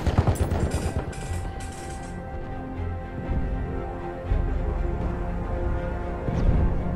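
Battlefield 1 Rush match with rapid machine gun bursts and heavy artillery booms, dense layered gunfire up close, rumbling explosions swelling toward the end.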